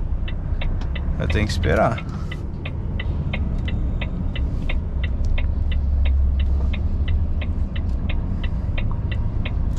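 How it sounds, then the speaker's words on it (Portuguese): Heavy traffic of many road vehicles passing near a parked truck, a low continuous engine rumble and throb under a regular ticking indicator, with someone speaking briefly over it. "agora tá vindo uma porrada de veículo aqui, hein?"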